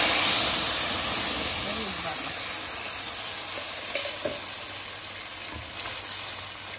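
Ground onion paste with cinnamon and cardamom sizzles in a hot pan, a loud hissing fry at the start that slowly settles to a softer crackle, with occasional stirring knocks and someone talking.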